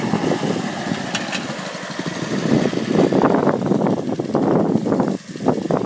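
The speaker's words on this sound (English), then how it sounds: "It's like a really old lawnmower." A really old lawn mower engine runs at close range with a rough, uneven rattling drone, surging and dipping briefly toward the end.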